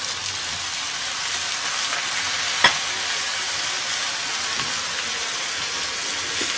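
Eggplant and tomatoes sizzling steadily in a frying pan while being stirred, a continuous hiss of frying with a single sharp clink of the spoon partway through and no voices.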